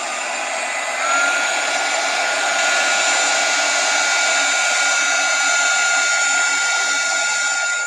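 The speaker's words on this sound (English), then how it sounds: "I'm going to use my heat tool and just dry that off" A craft heat tool blows steadily while drying ink on a stamped card, a continuous close whooshing whir with a high whine that holds for the full stretch and rises slightly after the first second.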